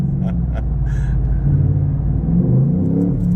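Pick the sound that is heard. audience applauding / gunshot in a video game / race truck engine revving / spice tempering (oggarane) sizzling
race truck engine revving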